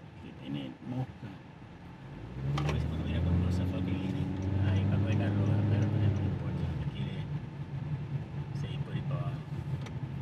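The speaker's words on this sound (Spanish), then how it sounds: "Aquí viene bastante carro." Steady road traffic in Guaynabo, Puerto Rico, heard from a passing car: a broad engine and tire rumble that swells after a few seconds and holds, with passing vehicles close by.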